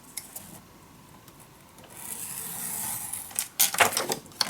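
Paper for an envelope mini album is scored with a tool half an inch in: a soft, steady scraping drag, then a few sharper crinkly rustles of the paper being handled close by, with no voices.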